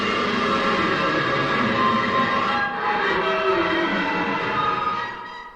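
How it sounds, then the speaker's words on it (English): Dense, harsh static hiss mixed with droning mechanical whirring from a tape machine in the video game Disco Elysium, loud and continuous throughout, with a brief dip midway. "Violent static and machine sounds fill the air."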